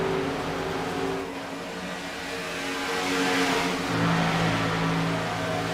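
Stock race car engines in a fixed-setup cup class at Talladega in a racing video game, a sustained pack drone with shifting engine tones that swells toward the end, loud and alone without talk.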